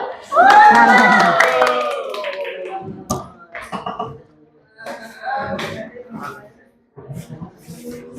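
A classroom of students claps hands in a short burst alongside cheering voices, then scattered claps and shuffling continue under intermittent talk.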